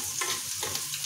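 Onion and garlic cloves frying and sizzling steadily in a pan, a close, dense crackle while the mixture is stirred.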